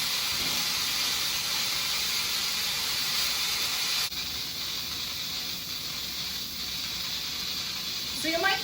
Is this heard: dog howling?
no